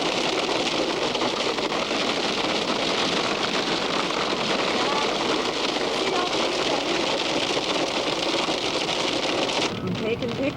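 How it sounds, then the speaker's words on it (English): Light hail falls steadily at a roadside picnic area on the way toward the Grand Canyon, a dense, continuous patter close by that holds an even level throughout. "Still hailing slightly."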